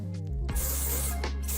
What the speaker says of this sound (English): I'm gonna finish it with a Paul Mitchell Invisible Wear Undone Texture Spray